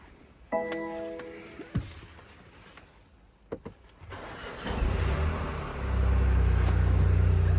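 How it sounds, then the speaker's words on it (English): A 2017 BMW X1 F48 sDrive18i with a 1.5-litre petrol engine cranks and fires up after a few clicks and clunks, then settles into a steady, close idle rumble that grows louder toward the end. "So let's just get this car running now."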